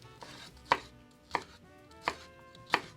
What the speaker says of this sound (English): I'll slice these boys.